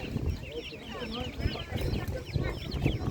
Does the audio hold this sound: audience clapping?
no